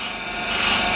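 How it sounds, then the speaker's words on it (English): A refiner scraper is shear-scraping wood in one continuous, rasping rub, close and fairly loud, with no voices over it. "you can shear scrape it if you want"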